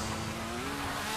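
Motorcycle racing in GTA V Online, a steady loud engine drone with a slowly rising pitch, heard alone with no talk.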